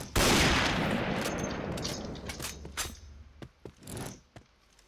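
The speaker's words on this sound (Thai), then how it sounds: "มาเปลี่ยนสไนเปอร์ยิง มัน ดีกว่า" Sniper rifle gunfire in the shooter game Point Blank, survival mode: a loud opening blast with long decaying reverb, followed by several sharper distant shots and impacts spaced irregularly.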